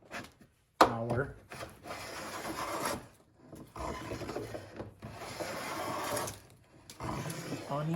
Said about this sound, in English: let's take a couple more of these thick shavings